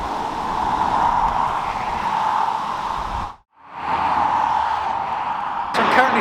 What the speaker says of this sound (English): excuse the traffic noise, we'll be away from that soon